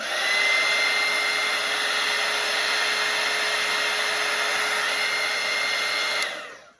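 A hair dryer blows steadily over a watercolour painting of Santa's face, a loud, even broadband whoosh with a faint motor whine. It runs for about six seconds before cutting off and spinning down.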